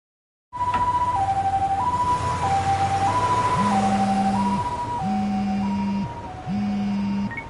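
Ambulance siren in the video game Lost Judgment, a loud two-tone wail alternating steadily, joined partway through by a lower repeating horn-like tone, close and continuous without speech.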